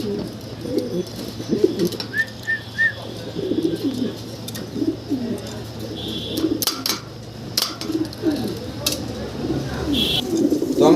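Pigeons coo again and again, close by, at a pigeon market, with soft rhythmic calls over a low murmur of background activity.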